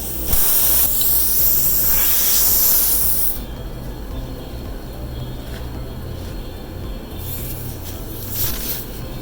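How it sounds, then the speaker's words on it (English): Leak-check spray hissing steadily from a can onto a Ford Escape tire outdoors, loud and close for about three seconds before dropping to a quieter hiss with a few short bursts. "So he twisted it, spraying it again to see if there's any leaks."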